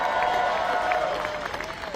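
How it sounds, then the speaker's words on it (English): A crowd at a White House summer evening gathering applauds new White House interns, a spread of clapping and murmuring voices that fades slightly toward the end. "Let me also give a big round of applause and welcome to our new White House interns."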